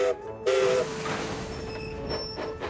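A cartoon steam locomotive, the little green engine, pulls away with a brief whistle blast, then a steady chuffing rumble with faint ringing tones as it gets moving along the track.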